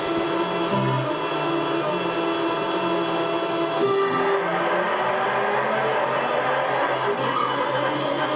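Racing engine drone from a touring car in Toca Touring Cars, loud and continuous, with a shift around the midpoint as the car loses grip and spins, tones sliding as it slows.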